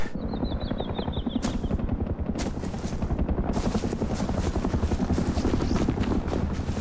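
Attack helicopter in the video game Rust, a steady rapid rotor chop close by, with a few sharp gunfire bursts cutting through.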